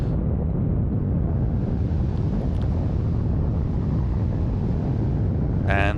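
Loud, steady roar of spaceship engines in the video game Dual Universe, a dense continuous rumble throughout with a short tonal blip near the end.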